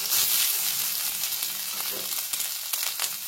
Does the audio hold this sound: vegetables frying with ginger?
yes